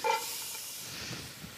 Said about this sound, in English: So you're frying off all your nice veg.